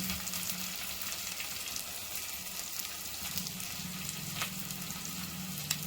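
Green chillies and curry leaves sizzle in hot oil for a Natu Kodi country chicken curry: a steady, dense, close frying hiss with a few sharper pops and no voices.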